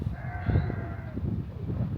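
Sheep bleat in the Welsh hills, a few wavering, drawn-out calls at moderate distance over soft wind and low rumble, with no one talking.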